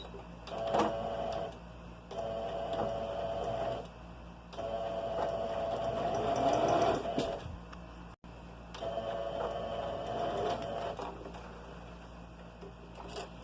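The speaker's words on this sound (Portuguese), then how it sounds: "E vamos passar aqui uma costura reta." A sewing machine runs a straight seam through fabric for a nursing pillow, its steady motor whirr coming in repeated bursts with short pauses between runs, close and alone.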